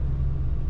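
A car rolling along a snowy, icy road, a steady low engine rumble and road hum from inside the cabin, unbroken and fairly loud, with no talking.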